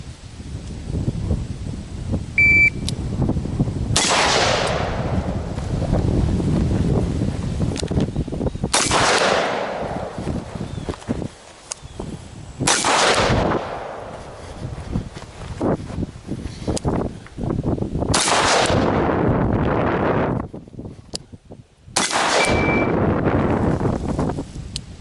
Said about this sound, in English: literally witnessing the very first ever rounds fired on these targets